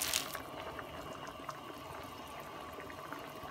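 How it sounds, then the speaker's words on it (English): Bow tie pasta boiling in a pot of water, a steady soft bubbling hiss that runs quietly and evenly throughout with a few faint pops, close by and with no talking. "I like watching the pasta boil."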